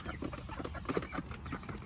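Backyard chickens cluck softly and repeatedly at feeding time, a close, busy cluster of short calls with faint rustling.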